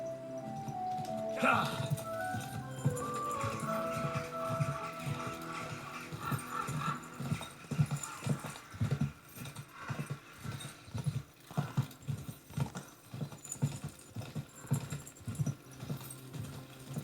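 Horse hooves clop steadily during riding in the video game Kingdom Come Deliverance, a rhythmic galloping beat under game music and ambience that grows more regular as the horse picks up pace.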